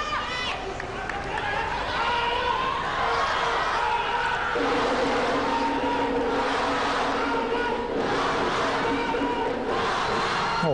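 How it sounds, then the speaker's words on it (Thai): Thai fans cheer at a women's volleyball club match between Thailand and Japan, a loud, sustained crowd roar with rhythmic chanting and swelling shouts while a commentator talks over it. "เสียงกองเชียร์ครับ"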